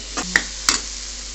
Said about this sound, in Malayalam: ടൊമാറ്റോ ഇട്ട് ഇളക്കി കൊടുക്കണം.